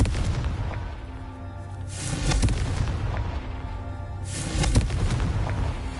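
Confringo blasting spell explosions in the Hogwarts Legacy video game: two loud booming blasts a couple of seconds apart, each swelling and fading over a steady low rumble, with no talking.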